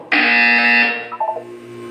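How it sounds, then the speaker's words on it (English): Buzzer from the video game Portal 2: one loud, harsh electronic tone sounds alone for nearly a second, then cuts off into a few short, fading stutters over a low hum. "You will hear a buzzer. When you hear the buzzer, look down at the floor."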